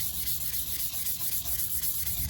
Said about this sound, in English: So we're just gonna keep on sanding.